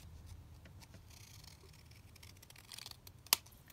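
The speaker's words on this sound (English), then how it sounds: "So I'm going to trim this down now" Scissors trim paper for a hidden paperclip tab, a few quiet snips and rustles ending in one sharp, distinct cut near the end.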